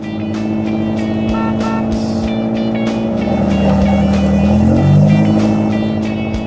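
A car engine roars loudly and steadily as it is driven fast, with the pitch climbing and swelling toward the end, close and continuous with no voices.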